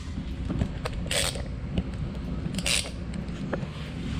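A socket wrench works the oil drain plug on a 2020 Subaru WRX, with a couple of bright metallic clicks over a low rumble of steady background noise, near and moderately loud.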